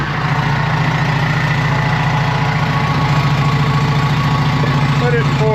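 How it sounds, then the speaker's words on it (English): A John Deere 450H dozer engine idles with a loud, steady diesel rumble and a regular pulsing throb that continues throughout, with people talking faintly over it. "All right, Tucker's going to fire it up."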